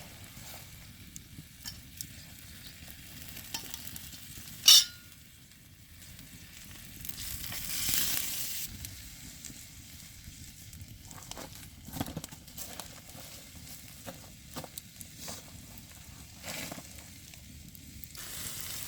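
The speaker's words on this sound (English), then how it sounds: "Look at that sizzle." Philly cheesesteak meat and vegetables sizzle steadily over an open campfire, with a sharp pop near the start and swelling hisses as the food is stirred around.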